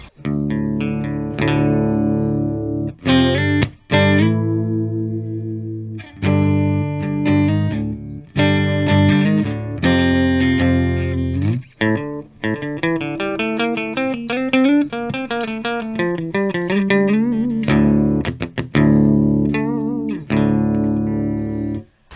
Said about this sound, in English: That's the clean tone of the guitar and the amp.